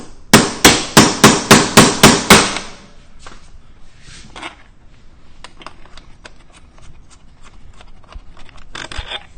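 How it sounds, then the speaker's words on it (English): A hammer drives a bolt into a bracket on a Yamaha Tenere 700 motorcycle, with seven quick, sharp metallic blows in an even rhythm, close and loud, followed by quieter tapping and handling clatter. "Then you get your hammer,"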